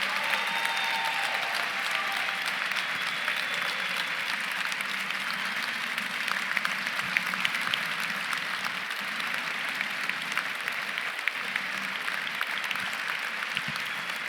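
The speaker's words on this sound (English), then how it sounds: "Please give one more round of applause to our amazing class of our 12th class of women who" Steady, sustained applause fills a hall at an awards breakfast honoring women in transportation, an even wash of many hands clapping at moderate distance with no voices over it.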